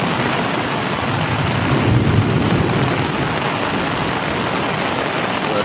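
Heavy rain hisses steadily over a campsite while a low rumble of thunder swells briefly in the middle, then fades back into the downpour.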